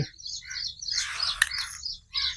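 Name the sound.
birds chirping while being fed grain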